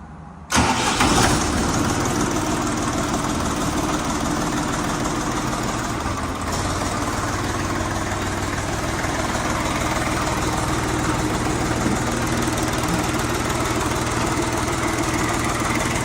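Bulat 244 L mini tractor with a KM diesel engine from Laidong cranking and catching almost immediately, then settling into a steady, close, chugging idle that continues unchanged.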